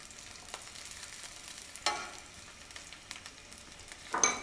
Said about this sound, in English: So now we'll put in the onion, and while you put in, you know, don't make it too hot, lower the fire a little bit